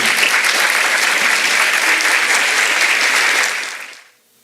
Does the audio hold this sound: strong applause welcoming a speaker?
yes